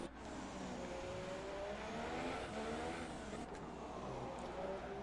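Ferrari Formula 1 car in F1 2018 racing around the circuit, the engine a continuous high, rising whine with gear-change steps, fairly quiet and steady throughout.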